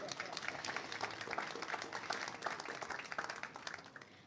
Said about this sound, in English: Let's give her a little clap.